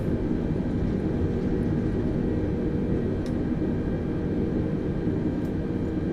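An airliner's thrust reversers roar on landing in Microsoft Flight Simulator 2020, a loud, steady, broadband engine rumble that holds unbroken throughout.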